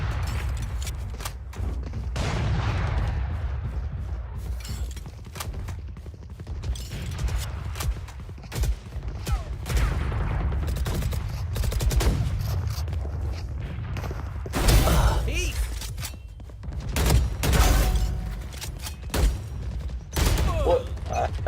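Gunfire from a Valorant esports match at Masters Toronto rattles in repeated bursts and volleys, with occasional heavier booms. It stays dense and continuous through the stretch.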